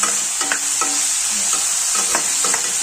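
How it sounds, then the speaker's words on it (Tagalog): Food sautéing in a pan at close range, loud sizzling with quick repeated stirring scrapes of a spatula, no talk. "So, habang ito, ginigisa ko"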